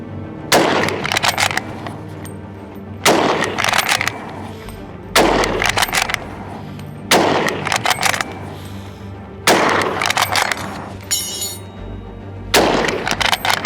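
Loud rifle shots from a cursed Carcano scout rifle, an old pre-World War I design, crack out six times at roughly two-second intervals, each with a long ringing tail, near and alone.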